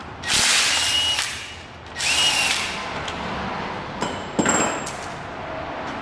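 A power tool works on the 14 mm engine mount bolts of a Honda B17 engine during a teardown, giving several close whirring bursts with metallic clinks and scrapes between them; no talking.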